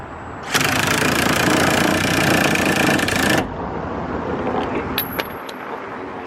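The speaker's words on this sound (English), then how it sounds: "Let's just go with the half-inch impact." A half-inch impact wrench drives a custom scissor jack lifting a Mitsubishi Starion, a loud continuous whirring burst of about three seconds that cuts off sharply, followed by quieter background noise and a few faint clicks.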